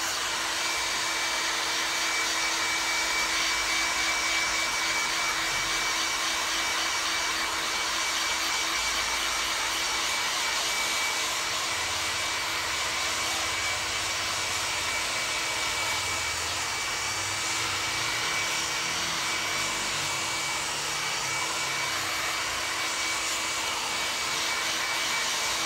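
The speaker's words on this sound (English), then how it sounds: "Now go over with the hairdryer." A hairdryer blows steadily over a freshly dyed leather jacket, a loud, constant whooshing motor hum with a faint high whine, running unbroken for the whole stretch with no talking.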